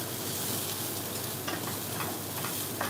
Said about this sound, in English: I'm going to just test the oil with a little bit of panko crumbs just to make sure it's cooking nicely